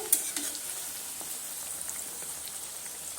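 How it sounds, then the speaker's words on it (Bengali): Wheat-flour pitha with a sweet semolina, cashew and raisin filling fry in hot oil, giving a continuous crackling sizzle with scattered pops, close and steady throughout, with no talking. "আবার আমি লাল লাল করে একদম মুচমুচো করে ভেজে নেব"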